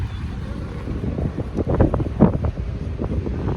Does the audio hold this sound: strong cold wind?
yes